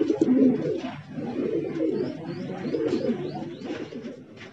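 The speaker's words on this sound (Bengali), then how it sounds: "ভিউয়ার্স দেখতে পাচ্ছেন, এটা মুখী কবুতর।" Mukhi pigeons at a large foreign-breed pigeon farm coo in continuous low, throaty murmurs, close and fairly loud, with faint chirps in the background.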